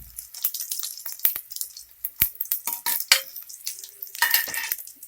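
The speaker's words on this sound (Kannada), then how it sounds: "ಈಗ ಜಜ್ಜಿರೋ ಬೆಳ್ಳುಳ್ಳಿ ಹಾಕ್ಕೊಳ್ಳಿ." Crushed garlic added to hot oil for a ridged gourd lentil sambar, with crackling, sputtering sizzles and scraping stirs against the pan in irregular bursts, close and clear, no talk.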